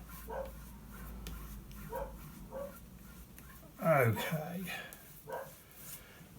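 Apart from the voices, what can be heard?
dog barking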